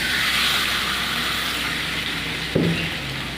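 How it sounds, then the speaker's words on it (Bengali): Oil heats in a kadai for frying fish, giving a steady, loud, even sizzling hiss, broken near the end by a single metallic clank. "মাছ ভাজার জন্য কড়াইতে তেল দিয়ে দেবো।"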